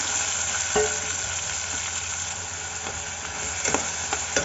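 Raw pigeon peas frying in a little oil, a steady close sizzle with occasional stirring scrapes and crackles, no voices.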